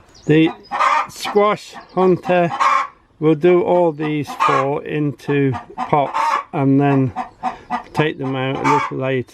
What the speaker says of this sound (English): I've got 2 chickens that want to lay an egg in the same nest.